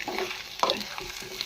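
A spatula scrapes and stirs fish egg fry with chicken masala in a pan, soft sizzling under a few close scraping strokes.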